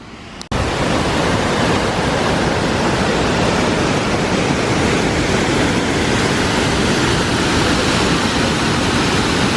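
Steady roar of the waterfall at Painted Rocks, Michigan, heard close from the brink; a broad, loud, unbroken rush of falling water that starts abruptly and fills the whole stretch with no voices.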